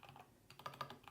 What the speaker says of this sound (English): So you could type in something like